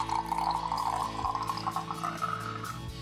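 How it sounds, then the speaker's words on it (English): A mix of brown and black acrylic paint thinned with water is poured into an empty plastic Pepsi bottle, giving a close, continuous trickling gurgle for a few seconds. "Pour it into an empty Pepsi bottle."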